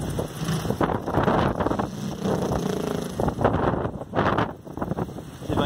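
Gusting wind buffets the microphone near a 500 watt eBay wind turbine spinning in its rated wind, a rough, fluctuating roar with bursts and lulls rather than a clear blade whir.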